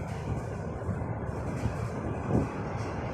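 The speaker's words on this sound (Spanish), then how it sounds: "Por eso se escucha en este momento un poquito más fuerte cómo retumban las vías del tren" A train rumbles over railway tracks on a wide bridge in Japan, giving a steady low, booming roar heard from onboard that swells slightly toward the end.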